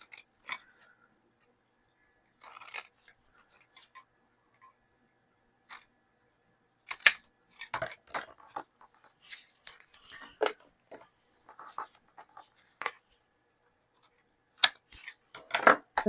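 Scissors cutting fabric off a hand-stitched slow stitch tag, with sparse soft snips and small handling rustles separated by quiet gaps, close and gentle, busier toward the end.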